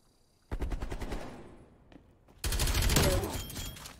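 Rapid SMG bursts in a video game: a sharp automatic burst, a pause with a faint click, then a second denser burst of rapid fire, fairly quiet overall.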